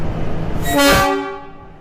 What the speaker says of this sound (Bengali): এ হচ্ছে টয় ট্রেন